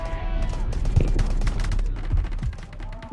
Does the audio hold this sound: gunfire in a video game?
yes